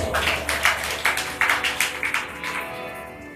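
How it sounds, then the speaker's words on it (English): A temple audience gathered at a Mandir gives a round of applause, a series of rhythmic, fairly close clap bursts that taper off toward the end. "I want you to give yourself a big round of applause."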